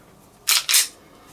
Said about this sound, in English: There's the click, and then there's some take-up before you're back on the brake again.